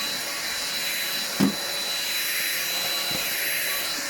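An Ambiano vacuum cleaner from Aldi runs over a Persian carpet, a steady close-up whooshing drone with a brief bump partway through.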